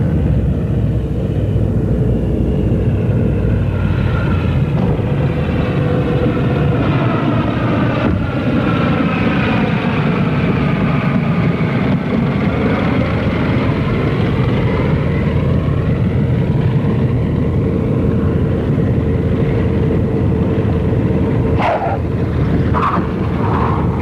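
A passenger airliner approaching to land at an airport in 1951, its propeller engines droning loudly and steadily throughout with a gradually shifting pitch, no talk over it.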